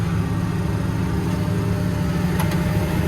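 A tractor engine builds its revs while crossing a ripple in a field, a steady loud low drone running throughout with no talk.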